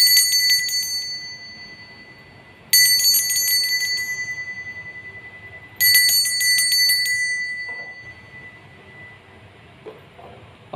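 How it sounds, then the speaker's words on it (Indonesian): A bell rings three separate times, each a bright metallic strike that hangs and fades slowly over a few seconds before the next, in an otherwise quiet room. "Kita akan memulai dengan ditandai lonceng berbunyi."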